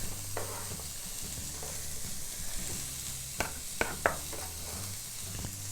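Onions sautéing in oil in a pan for a meaty lasagna, a soft steady sizzle with occasional stirring and a few sharp utensil clicks near the end.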